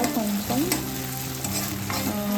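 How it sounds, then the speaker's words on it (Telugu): Ginger garlic paste frying in a pan for an Andhra-style potato tomato curry, a steady close sizzle with scraping stirring strokes from a spoon, no speech. "ఈ అల్లం వెల్లుల్లి పేస్ట్ కూడా కొంచెం పచ్చి వాసన పోయే వరకు వేయించుకోవాలి"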